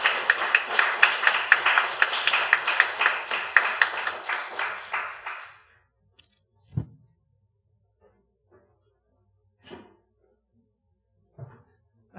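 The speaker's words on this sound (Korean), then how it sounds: "박수로 환영하게 모시겠습니다." A church congregation at a Wednesday evening service applauds in welcome, a rhythmic clapping that swells then fades out after several seconds, followed by quiet with a few isolated thumps.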